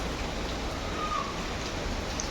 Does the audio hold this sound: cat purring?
no